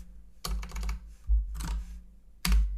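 Typing on a computer keyboard in three quick bursts of sharp, close key clicks separated by short pauses, loud and without talk.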